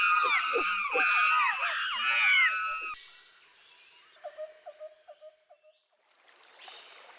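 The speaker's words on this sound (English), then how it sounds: "They're monkeys. Don't be scared, Maria. They're just talking to each other." Loud, shrill chattering calls of monkeys fill the first few seconds in a rainforest, then fade, followed by a faint series of short repeated hoots in the distance.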